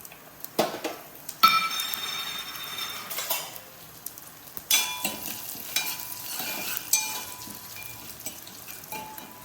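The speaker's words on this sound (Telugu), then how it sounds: "ఆయిల్ కాగింది, మనం ఇప్పుడు పోపు దినుసులు వేద్దాం." Spices for tempering crackle and sizzle in hot oil in a home kitchen while a Telugu egg fry is made, with sharp pops and spoon scrapes over a steady hiss and no talking.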